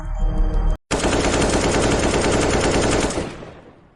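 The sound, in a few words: gunfire sound effect in action drama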